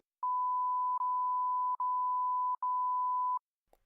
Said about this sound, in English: it's a huge beep